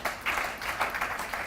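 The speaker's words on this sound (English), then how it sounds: "I thought you would be clapping by now" An audience claps and applauds in a hall at an International Women's Day commemoration, a steady, moderately loud wash of many hands with no one speaking over it.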